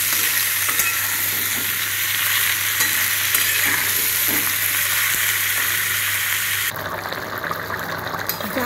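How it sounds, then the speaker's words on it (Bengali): Green jackfruit and potato pieces fry in hot oil in a pan, giving a loud, continuous close sizzle with scraping stirs throughout. "ভালো করে ভেজে নেবো এঁচড় আর আলু।"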